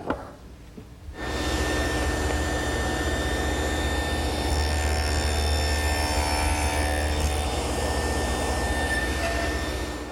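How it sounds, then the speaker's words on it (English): A power saw cuts a rabbet into a tiger maple drawer front for a washstand, starting after a second of quiet and then running as a loud, steady whine with a deep hum, unbroken to the end. "Let's rabbit the front first."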